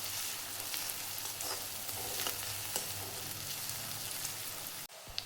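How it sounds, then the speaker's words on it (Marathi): Onion frying and being stirred in a pan for a bitter gourd dish, a steady close sizzle with scraping stirs, ending in a brief cut near the close. "कांदा छान असा भाजून घ्यायचा आहे."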